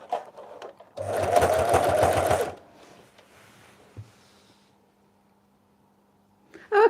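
A sewing machine stitches jelly roll rug strips in a steady whirring burst lasting about a second and a half, close and clear, then stops, leaving a quiet room with faint handling noises.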